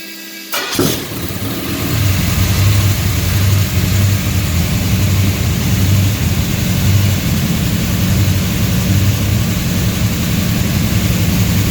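DCI Motorsports 535 cubic-inch RA5 Tunnel Port Pontiac V8, pump-gas fuel-injected and rated 850 horsepower, firing up with a sharp start then settling into a loud, lumpy, rumbling idle that holds steady.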